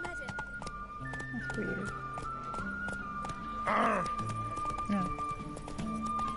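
A horse gallops in The Witcher 3, its hoofbeats thudding under game music with a brief whinny midway, while someone talks over the scene.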